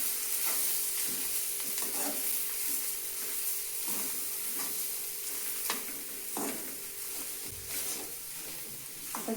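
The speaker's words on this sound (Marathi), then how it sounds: "आता याला हलवून घ्यायचं. कमी गॅस करून हलवायचं याला." Potatoes frying in oil over a low flame in a samosa recipe, a steady close sizzle and hiss with periodic scraping stirs of a spoon in the pan, no talk.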